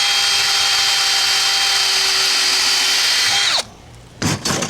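A power drill whines steadily at high pitch as it bores through wooden railing slats, close and loud for several seconds, then cuts off abruptly, leaving a couple of brief trailing bursts of motor noise.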